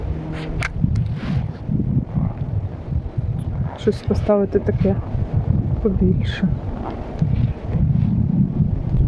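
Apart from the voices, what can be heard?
wind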